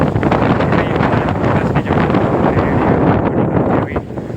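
Strong wind buffets the microphone continuously, a loud roaring rush that barely lets up for the whole stretch.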